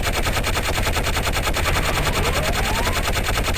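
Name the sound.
rapid-fire weapon shooting at firing range, Gunman Chronicles video game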